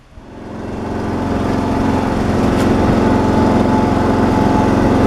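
A lawn mower garden tractor engine runs steadily and loud for the whole stretch, rising from a quieter start into a constant droning hum with no voices over it.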